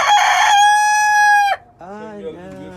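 A rooster crows loudly and close by, one long drawn-out call that breaks off, followed by a shorter, rougher crow trailing away.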